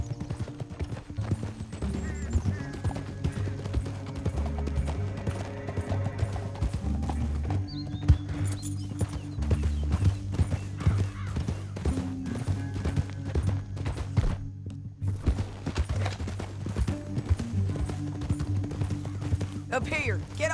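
Horse hooves clip-clopping at a steady trot throughout a Red Dead Redemption 2 ride, loud and continuous, with a low musical score and game voices talking over it.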